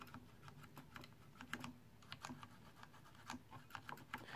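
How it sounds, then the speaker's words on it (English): Fingers type on a mechanical keyboard fitted with Cherry MX Black linear switches, giving rapid, irregular clacking keystrokes in close, dry bursts with brief pauses between runs. "Now, Cherry MX Black is another linear switch."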